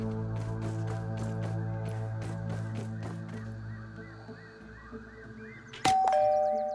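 A doorbell chimes a ding-dong in the video game Grounded, a bright tone ringing out sharply near the end over steady background game music.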